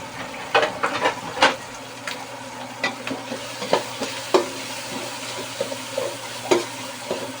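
Garlic and onion sautéing in a pan: a steady low sizzle broken by frequent sharp clicks and scrapes of a utensil stirring, close and moderately quiet, with no talking.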